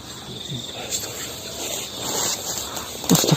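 A cricket chirps in a steady high-pitched trill among bamboo at night, a continuous insect drone under faint murmuring voices and rustling.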